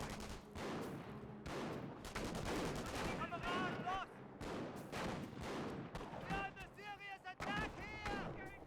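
Repeated rifle shots and battle noise from Company of Heroes 1, with a scoped rifle firing on pioneers amid steady gunfire and explosions. Loud, busy and continuous, with some bright whistling effects and talk running throughout.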